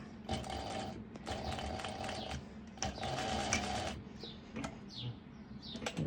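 Sewing machine stitching swimsuit fabric to secure a bra clasp, running in three bursts of a few seconds each, forward and back, with brief pauses between and faint chirpy squeaks near the end.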